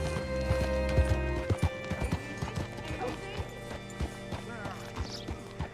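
Steady clip-clop of horse hooves on a hard surface in Red Dead Redemption 2, with a whinny and snorts, over a low rumbling background and music.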